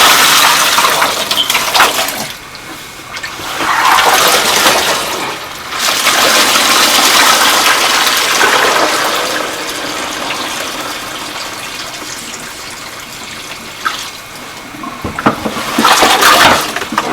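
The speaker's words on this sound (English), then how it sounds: "it's now time for me to pour this out and put some more water in there" Water gushes and splashes as a plastic storage bin of dirty hand-wash water is tipped out and refilled, in several loud pouring bursts separated by quieter trickling.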